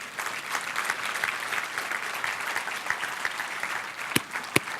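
An audience at a church gathering applauds one regular attendee who has stood up, a steady crowd clapping that holds for several seconds, with a couple of sharper claps standing out near the end.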